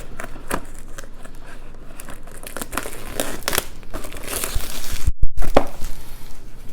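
A box-opener knife slices through a cardboard box holding Warhammer 40K Black Templar models, giving close scraping, crinkling cuts that build louder toward the end with a sharp tear.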